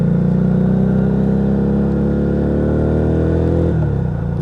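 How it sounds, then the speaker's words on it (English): Lexmoto Vendetta 250cc motorcycle exhaust on a ride, loud and close, holding a steady revving drone before the revs drop sharply near the end as the rider rev-matches on a downshift. "But that exhaust tone just sets the bike off."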